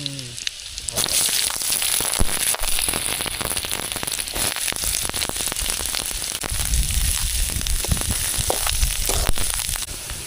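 Chopped onion dropped into very hot oil over a campfire at a night campsite by a large dam, a loud crackling sizzle that bursts in after a second and continues steadily.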